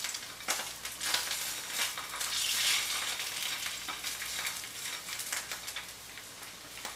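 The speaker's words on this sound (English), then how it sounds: "We are getting a good little pop and sizzle going on." Food crackles and sizzles in a hot frying pan, a dense bed of frying hiss broken by frequent sharp pops and spatters, fairly close and steady throughout with no voices.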